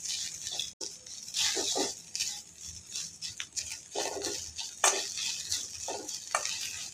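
Pundi (sorrel) leaves fry in a pan, giving a steady soft sizzle broken by scraping stirs and brief clattering bursts of the spoon against the pan.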